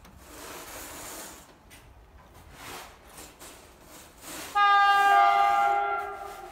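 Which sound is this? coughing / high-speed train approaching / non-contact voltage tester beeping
high-speed train approaching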